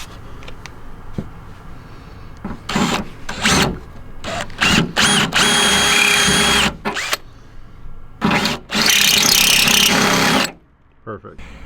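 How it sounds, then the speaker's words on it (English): A power drill whirs in several bursts while drilling holes in a 1997-2006 Jeep TJ for fender flares, some short and some sustained for a few seconds, with pauses and handling noise between them. "Let me finish drilling my other ones"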